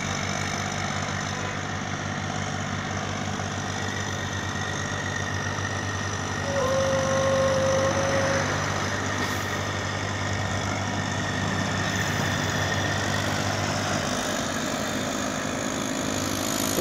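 A brick-laden tractor climbs a steep ghat road in Haryana, its engine a steady, laboring hum that grows slightly louder midway, heard from nearby with no talking.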